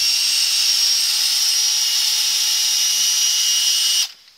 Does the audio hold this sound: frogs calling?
no